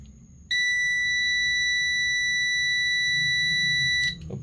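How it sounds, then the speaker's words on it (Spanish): An Aneng ST184 clamp multimeter in continuity mode gives one loud, steady, high-pitched beep lasting about three and a half seconds, cut off abruptly, over faint low background hum. "Este multímetro suena durísimo en continuidad."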